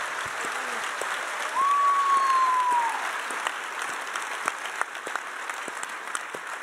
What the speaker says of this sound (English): Please give a round of applause to Chrissy Golden and Steve Blank.